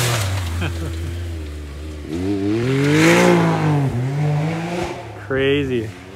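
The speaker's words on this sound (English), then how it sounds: "That thing's got a dump valve on it too. It sounds so nice." Stage 4 Can-Am Maverick X3 side-by-side fitted with a dump valve, engine revving loudly and rising in pitch with turbo whoosh, fairly close, speech over it.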